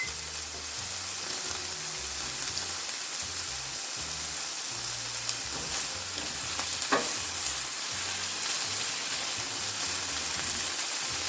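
Chicken pieces for cashew chicken frying in a pan, giving a steady close sizzle with crackling spits and an occasional sharp pop, all with no talking.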